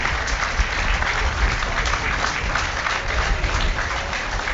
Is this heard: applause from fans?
yes